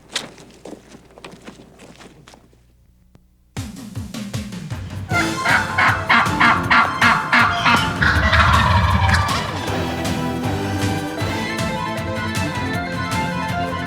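A wild turkey gobbles repeatedly in a spring woodland hunt setting, loud and close, with rustling footsteps and strutting movement around the calls, after a quieter opening.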